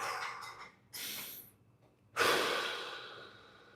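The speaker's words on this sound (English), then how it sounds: "Take some nice normal breaths" A person breathes slowly and audibly while relaxing into a hamstring stretch, with a couple of soft breaths followed by a longer, fuller exhale, close up and otherwise quiet.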